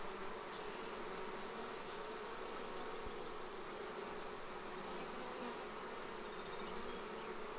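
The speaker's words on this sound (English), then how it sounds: "I think some of these idle bees on the front are deciding to go in." A swarm of honey bees being installed into a hive drones steadily at the entrance, a dense continuous buzz from many insects close by, level and unbroken throughout with no talking.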